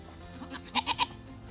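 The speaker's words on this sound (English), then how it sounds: "But goats make me happy." Goats on a farm give three short, clear bleats in quick succession, fairly close and moderately loud against a quiet outdoor background with no talking.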